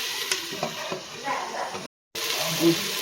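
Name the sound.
onions and tomatoes sautéing in a covered pan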